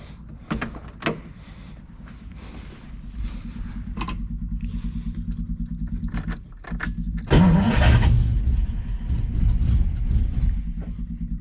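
A Ferrari 330 engine is cranked without its carburetor linkages: repeated short cranking bursts and clicks lead to a louder stretch where the engine catches and runs roughly, close by and with no talk.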